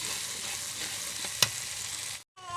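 Ground spice paste with melted tomatoes fries in a pan for a mushroom curry, a steady close sizzle broken by a sharp spoon scrape, then a sudden cut to silence and a brief tonal sound.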